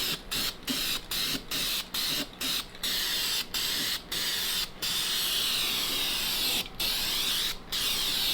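A spray can coating a welded metal patch on a 1974 car's heater channel area, with repeated short bursts of hissing spray broken by brief gaps, then longer sustained sprays, close and steady.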